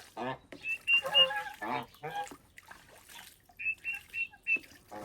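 Turkeys call out in a series of short, close, nasal, honking gobbles, loud bursts separated by brief pauses and heard alone.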